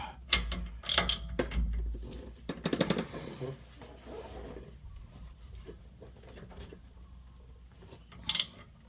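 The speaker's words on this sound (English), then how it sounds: "go for the 10 millimeter drain and see if I can loosen that with the ratchet" A ratchet working on the 10 mm rear differential drain plug of a 2019 Nissan Frontier: a few short bursts of close mechanical clicking, then a quieter stretch and a final sharp clack.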